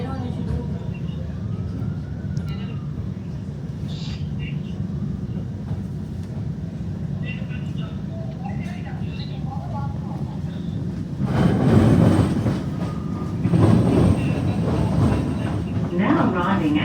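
Metro train on Melbourne's City Loop pulling into Flinders Street, a steady low rumble of wheels on track inside the carriage, with louder clattering bursts near the end and an onboard announcement heard over it.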